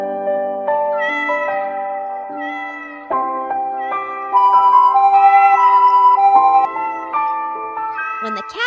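A cat's meows, pitched into a steady run of tuneful notes like a meowing song, carry on loudly and without a break from start to finish.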